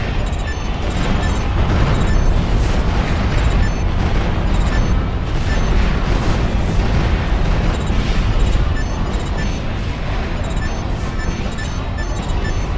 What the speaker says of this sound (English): then I need to start shooting into it with rockets